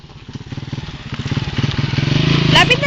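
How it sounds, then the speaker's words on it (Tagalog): A motorcycle engine putters closer along a rural road, its rhythmic chugging growing gradually louder, while people talk nearby. "Oh, may dadaan sasakyan, ha? May motor."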